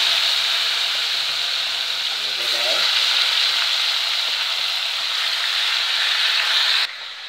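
Turkey neck frying in hot curry oil in a pot, a loud, dense, continuous sizzle close by that cuts down abruptly near the end, with a brief faint voice underneath.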